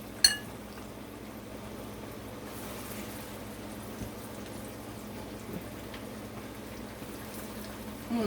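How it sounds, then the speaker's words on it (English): Curry gravy simmering and reducing in a pot, a soft continuous bubbling hiss with an occasional faint clink of cookware, steady and quiet throughout. "That gravy is reducing so much, guys, and that's gonna be our sauce."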